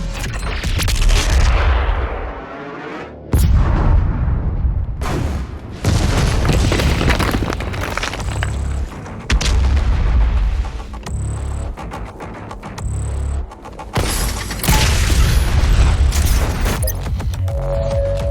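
Heavy cannon blasts from a Doom Eternal cutscene boom repeatedly at close range, each a loud low-frequency thud with rumbling decay, separated by brief lulls.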